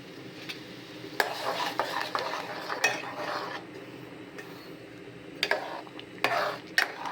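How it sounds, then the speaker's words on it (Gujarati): A spoon stirs semolina into boiling salted, oiled water in a pot, giving soft scraping swirls with sharp clinks of metal against the pot rim now and then over a faint bubbling bed. "સોજી એડ કરીશું"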